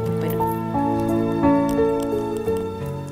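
A cup of thick yogurt is plopped into a bowl in a kitchen, giving wet squishy dollops close up, with a background music bed running throughout.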